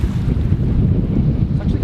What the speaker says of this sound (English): That's either the wind changing direction or it's just like a random gust.